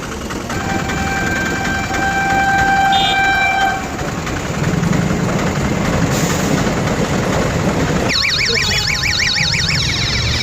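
A train passes a railway level crossing before Habra, heard from a vehicle stuck in traffic at the gate: a loud, steady rumble and clatter of rail cars with a long horn blast and sharp warbling tones near the end.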